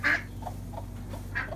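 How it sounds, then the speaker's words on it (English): A distressed duck near a nest gives loud, close quacks, one sharp call at the start and another near the end, with softer short calls between over a low steady hum. "this one duck is very distressed about us being in here"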